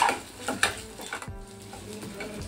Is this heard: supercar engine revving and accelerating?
no